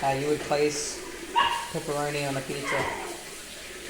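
A small dachshund barks a few times nearby in a home kitchen, its short yaps mixed in with a person talking while making pizza scrolls.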